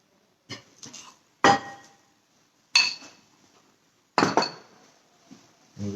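A spoon scrapes and knocks against a pan while Arborio rice is mixed into a cheese mixture, four separate bursts of clinks and scrapes with quiet gaps between them, close and fairly crisp, no voices.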